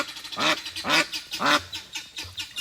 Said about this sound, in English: Yes, I hear you, Quacker Duck.